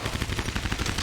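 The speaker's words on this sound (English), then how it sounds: "This STG-44 has a lot of recoil." STG-44 assault rifle firing in Medal of Honor Vanguard, a fast, steady burst of close, loud automatic shots in quick rhythm.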